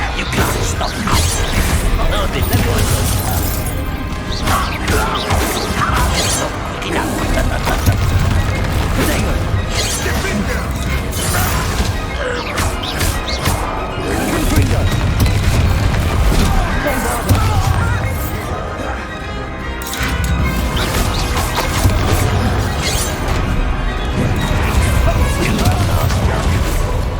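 Spell explosions in Hogwarts Legacy: a long, dense stretch of booms, crashes and whooshing impacts over a rumbling low-end bed, loud and nearly continuous, with a few brief dips.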